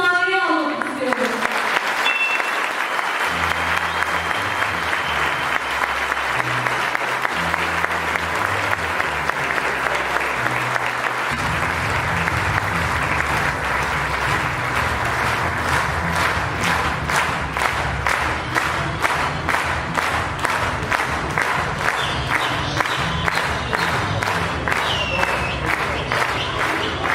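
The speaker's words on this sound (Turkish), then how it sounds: "Oğuz Saygın Beyefendi büyük alkışlarınızla sahneye almak istiyorum" An audience applauds as guest Oğuz Saygın comes on stage, with sustained loud clapping and cheering mixed with rhythmic music early on, later settling into crowd noise that turns into steady unison clapping.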